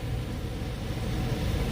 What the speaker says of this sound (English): I got my fans running, the trucks around me are idling